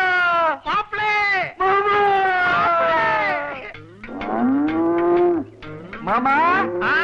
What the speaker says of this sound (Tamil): அது யானை இல்ல, எருமை.